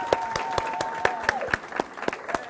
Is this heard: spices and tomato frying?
no